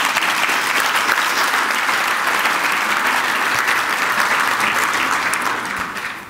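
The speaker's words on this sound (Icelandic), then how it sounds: "ef við ekki byrja að klappa fyrir henni" A conference audience breaks into loud, sustained applause, many hands clapping in a dense, even roar that carries on steadily and tapers slightly at the very end.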